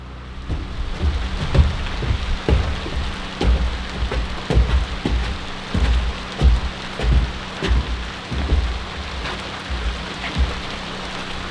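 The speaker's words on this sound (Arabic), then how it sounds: "الدنيا مطر، مش عارفين نشتغل برا" Steady rain falls outdoors at a house where walls are being covered during a self-build, with close drips and patter hitting a surface in an uneven rhythm over a constant wash and a low rumble, with no voices.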